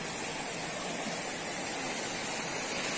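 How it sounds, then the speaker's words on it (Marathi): A mountain spring stream at Devkund in Tamhini Ghat runs with a steady, even rush of water, close and continuous for the whole stretch, with no voices over it. "हे बघा, हा असा झरा आहे,"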